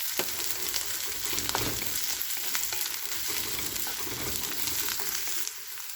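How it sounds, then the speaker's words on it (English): Crushed ginger and garlic sauté in hot oil in a pan, a continuous close sizzle broken by occasional sharp crackles and stirring scrapes, easing slightly near the end. "Now I am adding 1 tablespoon of crushed ginger and garlic. Saute it well till the raw flavor of ginger and garlic goes off."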